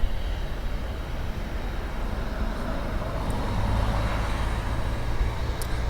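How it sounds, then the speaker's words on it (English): A United airliner lands on runway 24 left at LAX, a broad, steady jet roar that swells slightly as it passes, with no speech. "we have United just landing"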